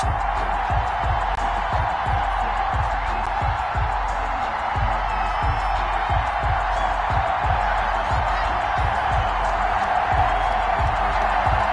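Simulated stadium crowd in an EA Sports NFL game, Detroit Lions versus Dallas Cowboys in Week 6, roars steadily throughout, with a regular pulse of low thumps beneath the dense wash of cheering.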